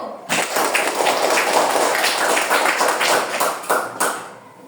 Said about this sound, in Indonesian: Berikan tepuk tangan dulu buat kelompok 1.